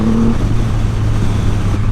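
A 2020 Triumph Rocket 3 motorcycle engine drones loud and close as the bike rides, a steady powerful hum with a brief tonal whine at the start and no talking.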